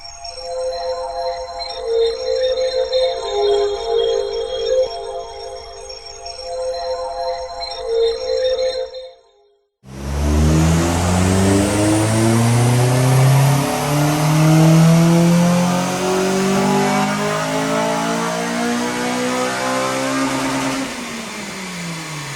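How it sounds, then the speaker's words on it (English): A Honda Civic Type R EP3 on a dyno for a stock power run: a steady idle with harmonic hum, a brief cut, then a loud engine rev climbing continuously through the range until it drops off near the end. "Standard power run done, and we've made 210 brake horsepower on the stock run."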